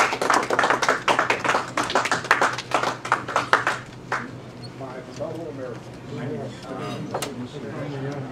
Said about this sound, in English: Let's give a rousing round of applause